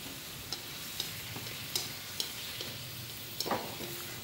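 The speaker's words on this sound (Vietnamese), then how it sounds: "mình xào nấm rơm này mình cho gia vị cũng tương đối hơn nha quý vị" Straw mushrooms stir-fried in a pan, seasoned with fermented soybean paste, giving a soft steady sizzle with a few faint clicks of a utensil scraping the pan.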